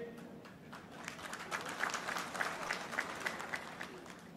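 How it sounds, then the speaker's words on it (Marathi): A crowd claps in a sustained round of applause, moderately distant, swelling slightly in the middle before settling. "आपण सर्वांनी खूप जोरदार टाळ्या वाजवल्या"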